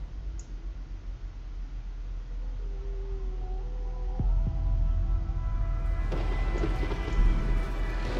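A thunderstorm rolls through the video game Anthem, with a soft wash of rain and a low rumble, then a sudden thunder crack midway followed by louder crackling rumbles and swelling storm noise.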